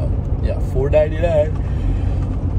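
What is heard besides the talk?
car driving through the Cascades mountains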